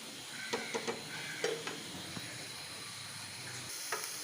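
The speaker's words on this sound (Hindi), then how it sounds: "ये हमारी प्याज हो रही है, जैसे ही गोल्डन ब्राउन होगी फिर हम इसमें तुरई ऐड करेंगे" Onions frying in a pan until golden brown, with a soft steady sizzle and a few scattered clinks and stirring taps, no talk.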